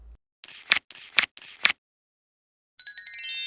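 Cards from an education card deck being picked and handled: three crisp, separate rustling flicks at an even pace, close and clear, followed by a brief bright chime.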